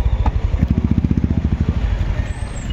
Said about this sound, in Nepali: गणतन्त्रको पक्षमा बृहत मोटरसाइकल र्यालीमा हामी सहभागी भइरहेछौँ